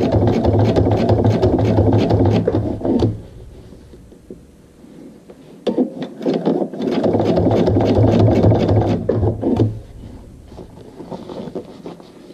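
A sewing machine runs stitching a 3/8 inch seam at stitch length 3 during final assembly and binding, with two long steady bursts of rapid, even needle chatter separated by a pause with light handling noise.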